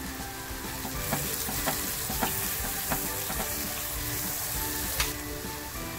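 Garlic and onion sizzle steadily in hot oil as a pinch of turmeric goes in for a homemade oyster masala, with a constant frying hiss broken by occasional sharp clicks of a spoon stirring the pan.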